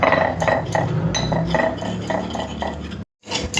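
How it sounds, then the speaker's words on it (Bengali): A utensil stirs and clinks steadily against a bowl while beaten egg batter is mixed with cornflour, pepper and salt, giving a quick repeated rhythm of close scraping taps that ends with a brief cut. "কর্নফ্লাওয়ার গোলমরিচ নুন ডিমের সাথে ভালো করে মিশিয়ে নিতে হবে"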